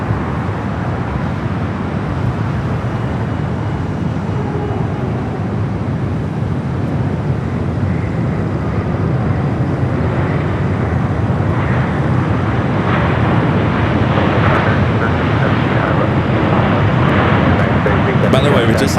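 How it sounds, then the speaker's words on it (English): An Asiana Airbus A380 takes off at LAX with a loud, continuous roar that builds gradually from start to finish, mixed with wind buffeting. "We just had Asiana A380 Super just take off"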